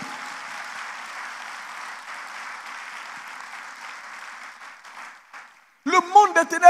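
A church congregation applauding and cheering for Jesus during a sermon, a steady wash of clapping that fades out before a preacher's voice returns.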